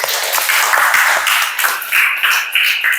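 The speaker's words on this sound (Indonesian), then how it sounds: "Tepuk tangan dulu." A classroom of students clapping their hands together on the teacher's cue, a quick burst of overlapping, uneven claps that lasts a few seconds, close and fairly loud.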